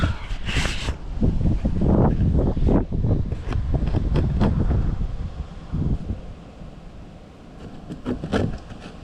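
Outdoor wind buffets a microphone during small-engine work on a Coleman Outfitter, giving a loud, continuous low rumble with gusty surges and rustling that eases slightly near the end.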